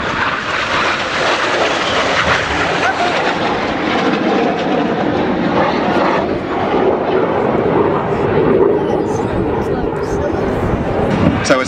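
Red Arrows jet aircraft fly past in the Jippo Pass formation, a loud, steady roar that holds from start to end and swells slightly near the close, with no talk over it.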